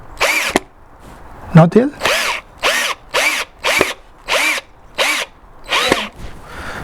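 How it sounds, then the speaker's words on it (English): A cordless power drill driving screws into a DIY modern floor lamp, a series of about nine loud, close whirring bursts of roughly half a second each, separated by short pauses, with a brief spoken question in between. "We're going to drive the screws."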